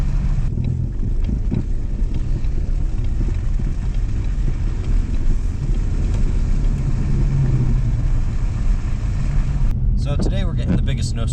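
A Ford Mustang drives through heavy snow in a snowstorm, its engine a steady low rumble throughout, loud and close, with a brief burst of other noise near the end.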